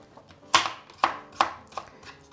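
Knife chopping a carrot on a board, four sharp crisp cuts spaced roughly half a second apart, close and clear with a quiet kitchen background and no talk.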